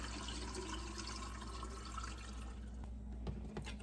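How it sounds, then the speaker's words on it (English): Water mixed with pickling lime is poured over eggs to preserve them, giving a steady liquid pouring and splashing sound that runs continuously throughout and fades slightly near the end. "all I need to do now is just pour this over the eggs."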